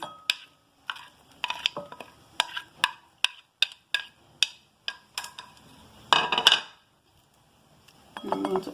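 Onions are stirred into okara in a pan, a series of sharp, evenly spaced metallic clinks and scrapes of a utensil against cookware, close and distinct, with a longer scraping burst near the end.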